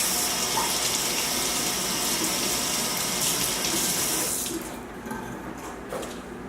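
Water gushes steadily from a kitchen tap while a meal is being prepared, a loud continuous rush that abruptly softens near the end.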